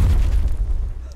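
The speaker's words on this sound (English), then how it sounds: "No, it was like a big ass explosion" A huge, deep boom from an explosion in the shooter game Battlefield 4. It lands hard and fills the low end, then rumbles away and fades over about a second.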